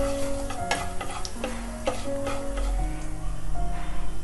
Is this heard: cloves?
yes